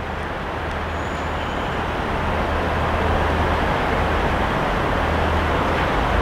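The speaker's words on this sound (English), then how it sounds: "Here's my connecting train." A connecting train pulling into Newcastle station on a line toward Sunderland, heard as a steady, broad rumble and rush that gradually grows louder over several seconds.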